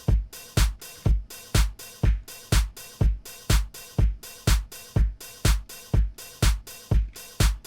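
Basic house beat combining kick drum, hi-hat and snare, repeating as a tight, even four-on-the-floor groove with snare hits layered in and offbeat hats, steady and close with nothing else over it.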